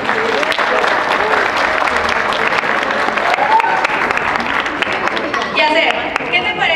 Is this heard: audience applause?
yes